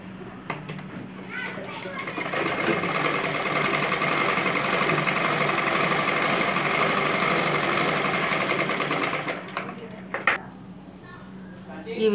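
A sewing machine stitches the seams of a prince cut blouse in a steady, continuous whirring run lasting several seconds, with voices and household sounds in the background.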